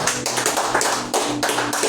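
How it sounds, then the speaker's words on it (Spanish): A church congregation at a Spanish-language service breaks into loud applause, dense rapid clapping in several swelling bursts with no voices. "Dale un fuerte aplauso"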